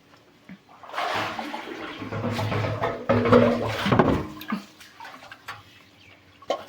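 Water splashes out of a pail for buffaloes to drink in a village yard. A gurgling pour swells for a few seconds and then trails off into scattered drips, close and fairly quiet.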